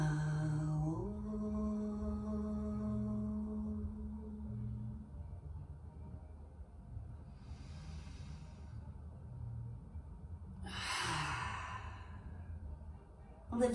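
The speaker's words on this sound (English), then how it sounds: "As you're ready, biggest breath available." A long, deep breath taken at the close of a yoga flow after a chanted Om: a slow sigh-like exhale against a soft low hum, with a brief breathy rush near the end.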